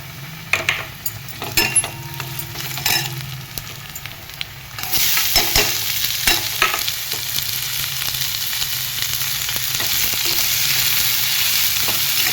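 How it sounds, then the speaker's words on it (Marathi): Onions frying in a pan until browned, sizzling softly at first with light stirring clicks, then becoming a louder, steady sizzle partway through as the cooking intensifies. "कांदा लाल होईपर्यंत परतून"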